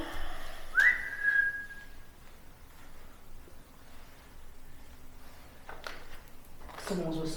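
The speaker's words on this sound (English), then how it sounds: "Someone's whistling that." A person whistles a short rising note in a dim, noisy room during a ghost hunt at an old asylum; the whistle is brief and fairly close, followed by faint rustling and a voice near the end.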